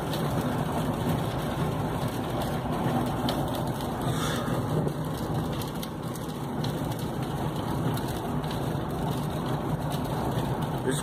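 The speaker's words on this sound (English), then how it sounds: "It's raining pretty hard." Heavy rain falling steadily outdoors under a sky with sun breaking through clouds, a dense, continuous broadband hiss with a low rumble, loud and constant throughout with no talk.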